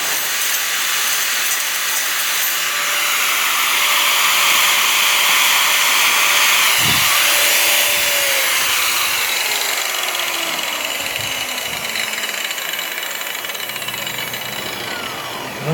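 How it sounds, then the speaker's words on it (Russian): A power tool fitted with an emery abrasive grinds down a length of steel rebar, making a continuous loud motor whine over a harsh abrasive hiss that holds steady for about fifteen seconds, with a few pitch shifts as the load changes. "Поэтому обработаем наждачком."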